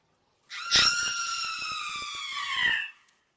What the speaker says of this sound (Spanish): Este es uno de esos tapetes de gritos.